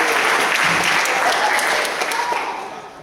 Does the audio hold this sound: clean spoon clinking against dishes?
no